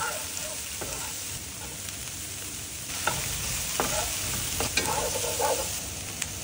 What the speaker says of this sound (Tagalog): Bawasan ng oil at igisa ang onions and garlic until translucent.